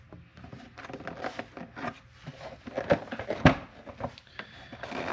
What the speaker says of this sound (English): First thing you gotta do is gotta rip these stupid engine covers off.